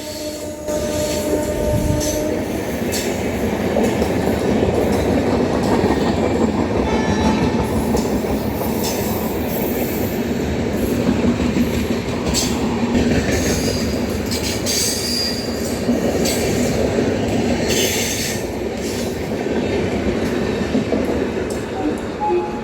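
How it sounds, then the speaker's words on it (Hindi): The Paschim Express overtakes on the middle line at Hazrat Nizamuddin railway station, giving a loud, continuous rumble of rolling cars with squealing wheels and rhythmic clacking over the rails. "बीच वाली लाइन से जो है पश्चिम एक्सप्रेस ने बहुत ही अच्छा अपना ओवरटेक दिखाया।"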